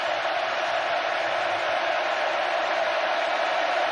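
A stadium crowd at a 2021 Alabama vs Texas A&M college football game roars in a loud, steady wall of noise that holds without a break and carries no clear individual voices.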